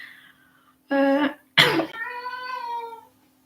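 A cat meows up close in a quiet room: two loud, distinct meows with a brief gap, then a longer drawn-out cry.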